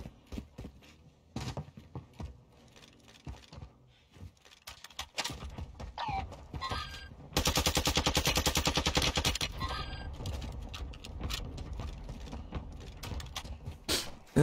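Video game gunfire with sparse isolated shots early on, then a sustained loud burst of rapid fire in the middle, followed by scattered mechanical clicks and further shots.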